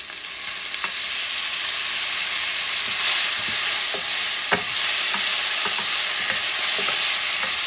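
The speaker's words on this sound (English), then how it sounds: "Mix it up for a few seconds because you don't want the garlic to burn" Garlic and malt vinegar sizzle steadily in a pot while being stirred, with scattered spoon scrapes and clicks over a continuous frying hiss, close and fairly loud throughout.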